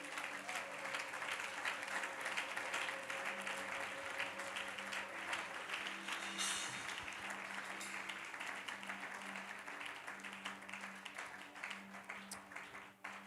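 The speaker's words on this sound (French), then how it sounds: "Acclame Jésus." A church congregation applauds Jesus with steady, crowded clapping that holds for several seconds, moderately distant and fairly quiet, a low voice faintly underneath.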